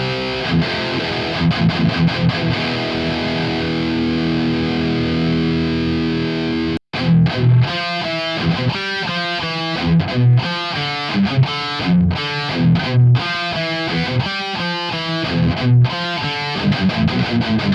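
Heavily distorted electric guitar playing a metal tone through an amp and parametric EQ, loud and dense, sustained chords at first, then after a brief cut a run of tight, rhythmic palm-muted chugs with no one talking.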